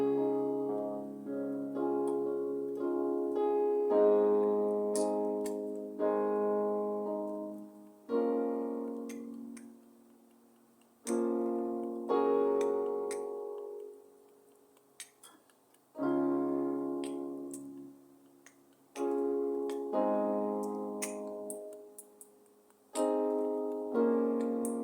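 A piano plays a plain 1-5-6-4 chord progression with no added fills, each chord struck and left to ring and decay in a slow, steady rhythm, close and clear with no talking.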